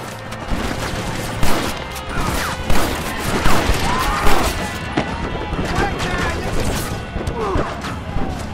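Rapid machine gun fire in Red Dead Redemption on PS3 rattles in bursts through a busy battle mix, with sharp impacts and crashes scattered across the clip and voices shouting underneath.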